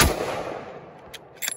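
Single rifle shot while deer hunting, a sharp loud outdoor crack with a decaying rolling echo afterward, followed by faint brief rustles.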